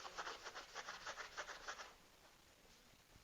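A rag rubs quickly back and forth over a waxed chalk-painted furniture surface, a rhythmic series of soft close scrubbing strokes that fade into quiet.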